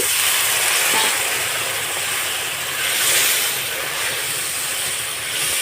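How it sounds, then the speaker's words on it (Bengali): Water poured into frying spice masala for muri ghonto raises a loud, steady hissing sizzle with surges of steam, close and continuous with no voices. "এখানে অল্প সামান্য আমি জল দিয়ে দিচ্ছি"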